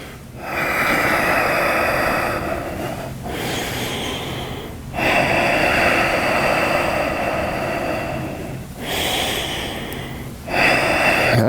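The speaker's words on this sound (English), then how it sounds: "3 more breaths" Deep, slow breathing during a yoga flow, long loud inhales and exhales close to the microphone in a steady rhythm, each breath separated by brief pauses, with no talking.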